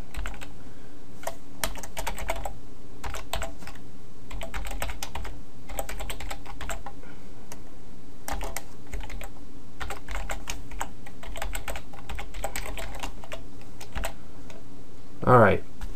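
Someone types on a computer keyboard in short bursts of soft clicks while entering HTML5 code, with quiet pauses between bursts and someone talking over it.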